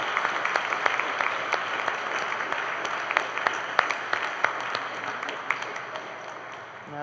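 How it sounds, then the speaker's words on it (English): A church congregation applauds during a Sunday Easter Mass, a steady wash of many hands clapping at moderate volume that fades slightly toward the end. "Let's give a nice round of applause to our compañera."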